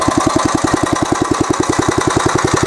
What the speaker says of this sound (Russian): Мотоблок там едет